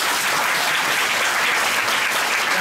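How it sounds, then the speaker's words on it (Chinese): Dense, steady applause from a comedy show audience, loud and continuous throughout with no gaps, a close wash of many hands clapping. "给他掌声鼓励好吗？"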